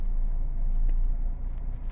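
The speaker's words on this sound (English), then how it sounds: "so I'm gonna turn on the car, turn the heat, so you might hear a little bit of background noise" A parked car's engine idles with the heater running, giving a steady, close low rumble that fills the whole stretch with no speech.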